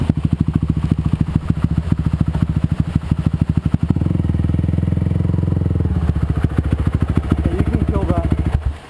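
A motorcycle engine, waterlogged from running through a puddle, cranks and sputters with rapid, rhythmic pulses, briefly catching into a rougher steady run before pulsing again and cutting off.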